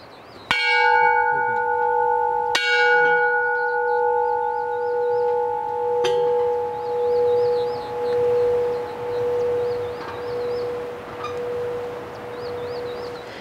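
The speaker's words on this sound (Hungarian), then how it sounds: "ezt a harangot kétszer kongassuk meg" A small bell in a little temple in India rings with two clear metallic strikes close together, then a lighter third tap, each tone humming on and slowly fading over a long resonant tail.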